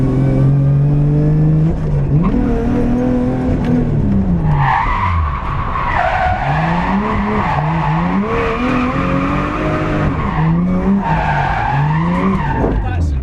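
A Lexus IS200 with a Toyota 1JZ-GTE swap drifts, its engine revving up and down in long sweeps under sustained tyre squeal and skidding, loud and close throughout.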